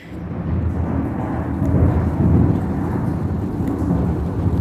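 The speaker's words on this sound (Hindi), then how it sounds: "अचानक से बादलों के गरजने की जो आवाज़ आई है" A deep, sustained rumble of thunder rolls on, swelling slightly midway, heavy and low with no voices.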